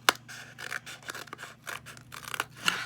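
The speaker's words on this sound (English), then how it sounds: "it's double thickness, so it's hard to cut" Scissors snip and crunch through a doubled paper cup wall in a crafting setup, giving a series of close, crisp cutting scrapes with short pauses and a sharper snip near the end.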